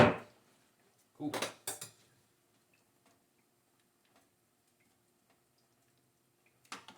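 A spoon stirs alfredo pasta in a pot, making a few brief metallic clinks and scrapes close by, separated by long quiet stretches.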